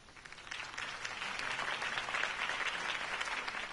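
A crowd applauds after a campaign speech for Harvey Dent in the Batman Telltale video game, steady clapping that swells a little and holds without fading.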